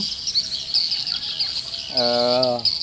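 Faint high twittering chirps from many swiftlets flying in and out to feed over a constant hiss, with a short voice-like harmonic tone near the end.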